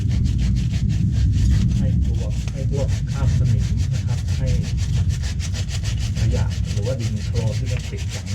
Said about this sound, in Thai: ใช้กระดาษทรายนี่ขัดแล้วก็เดี๋ยวฉีดจาระบีแล้วก็อัดเข้าไปนะครับ